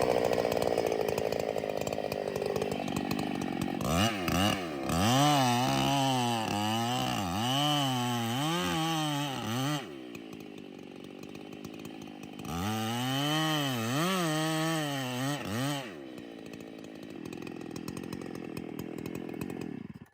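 Chainsaw cutting the back cut while felling a co-dominant tree, the engine revving up and bogging in two long loaded bursts with a rising and falling pitch, idling between and after.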